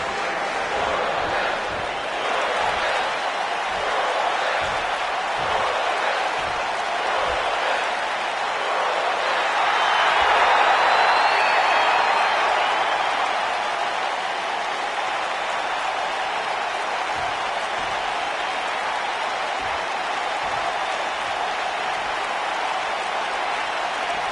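A wrestling arena crowd in WWE 2K19 during SmackDown Live keeps up steady applause and cheering that swells a little midway, then settles back to a continuous roar.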